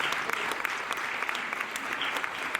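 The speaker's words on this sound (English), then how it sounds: "Big round of applause." A crowd at a college campus renovation ribbon cutting claps steadily, a close, dense wash of applause that holds at an even level throughout.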